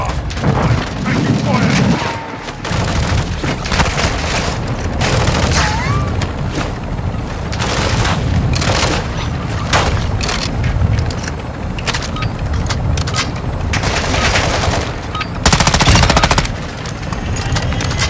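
Gunfire in Call of Duty Warzone on Ashika Island: dense, loud bursts of automatic fire and heavy booms come one after another almost without pause, with a brief lull early on and an intense close volley near the end, under occasional game voices.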